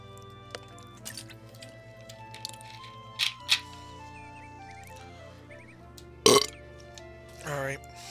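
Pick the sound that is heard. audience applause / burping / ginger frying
burping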